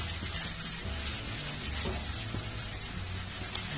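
Onion and tomato frying in a pan for macaroni vegetable soup give a steady soft sizzle with occasional light stirring scrapes, moderately quiet and without voices.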